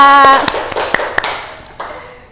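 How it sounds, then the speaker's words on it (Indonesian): A short burst of hand claps in a classroom, a handful of sharp separate claps spaced out and fading, close by, with no talking over them. "Tepuk tangan untuk Mbak Maswah dan Mbak Nila."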